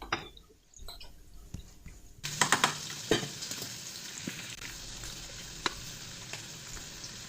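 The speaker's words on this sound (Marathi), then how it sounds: "डाळीला तडका देते." Tadka for dal, oil with cumin and mustard seeds, bursting into loud sizzling after a quiet start, with crackling pops scattered through a continuous close hiss and no talk.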